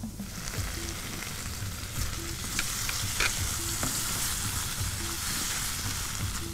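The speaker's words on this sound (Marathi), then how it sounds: "यात आपण टमॅटो प्युरी टाकणार आहोत, 4 चमचे टमॅटो प्युरी आहे।" Tomato puree is stirred into cooked flour in a pan for Japanese katsu curry. A steady soft sizzle runs under scraping stir strokes and a faint repeating beep, with no talking.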